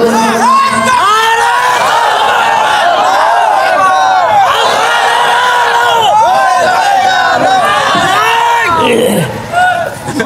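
A large religious gathering at a Bengali waz sermon shouts the takbir in unison, a loud massed roar of many voices rising and falling in repeated chants, filling the space close and continuous.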